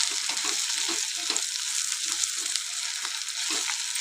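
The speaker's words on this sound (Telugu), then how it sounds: "ఆల్మోస్ట్ కాకరకాయ అయితే మంచిగానే ఫ్రై అయింది." Sliced bitter gourd fries in a pan, giving a steady close hiss with soft crackles and light scraping as it is stirred.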